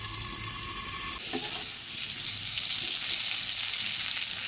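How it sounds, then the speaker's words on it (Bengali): Potatoes frying in oil in a covered pan while cooking Bengali tengra fish curry, a steady loud hissing sizzle throughout, briefly broken by a clatter of stirring, with no talking. "ঢাকা দিয়ে আলুটা ভেজে নিয়েছি।"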